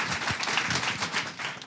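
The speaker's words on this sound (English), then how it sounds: "we can clap for women" An audience claps together in a dense, steady burst of applause at a live conversation event, close and lively, lasting the whole short moment without pause.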